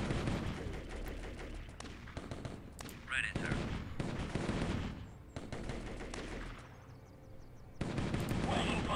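Gunfire in the video game Warfare: bursts of rapid machine-gun fire and sharp shots start and stop in clusters, loud and close, broken by short quieter gaps.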